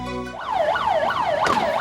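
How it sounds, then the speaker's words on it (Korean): A 119 rescue team emergency vehicle sounds its wailing siren, loud and close, with rising and falling sweeps repeating rapidly after a brief horn-like tone at the start. "사이렌 소리를 울리며 긴급히 출동하는 119 구조대"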